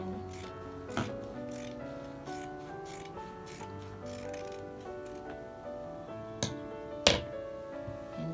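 Scissors cut through skirt fabric in a quiet sewing setting: soft, irregular snips and rustling with a few sharper clicks and taps, all fairly faint.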